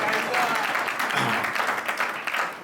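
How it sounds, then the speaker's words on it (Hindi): An audience at a Hindi comedy stage show gives a thin, half-hearted round of applause, a steady wash of scattered clapping that holds for a few seconds without building. "तालियां कमजोर आ रही है भाई साहब।"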